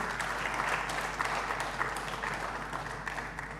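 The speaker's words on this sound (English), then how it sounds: "A big round of applause to her" Steady applause from an audience at a women's leadership conclave, a dense wash of clapping that holds evenly for a few seconds with no talk over it.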